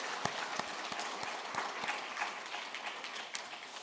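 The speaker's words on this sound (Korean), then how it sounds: "우리 집사님 가정에 하나님이 다시 한번 축복하시기를 박수로 한번" A church congregation at a Korean harvest thanksgiving service claps together to bless a family. The applause is steady and moderately soft, with a few crisp claps standing out near the front.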